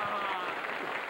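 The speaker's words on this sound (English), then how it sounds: "Let's greet him with a big round of applause" An audience in a television studio claps steadily in a dense, continuous burst of applause at moderate volume, welcoming a pickpocket performer on a magic show.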